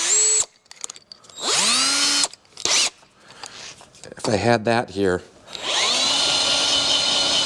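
A drill fitted with a Harbor Freight bit bores through fender frame mount brackets for an XLCH chopper, in several short whining bursts that rise and fall in pitch, broken by pauses and someone speaking.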